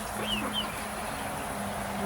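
Silver pheasants kept as newly acquired birds give two brief high chirping calls close together near the start, over a low steady hum of background noise.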